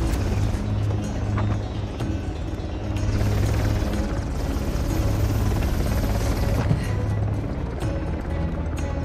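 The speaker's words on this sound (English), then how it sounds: "Need to find another way to bring that chopper down." A helicopter in Uncharted: The Lost Legacy drones steadily overhead, its rotor wash and engine forming a loud, continuous roar for the whole stretch with no talk.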